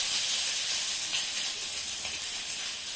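Onion hits hot oil for momo chutney, giving a steady, broad sizzling hiss that holds at even loudness from start to finish.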